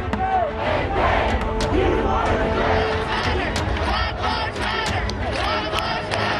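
Crowd of protesters in Athens shouting and chanting in unison, a dense roar of many voices with repeated sharp yells, loud and sustained throughout.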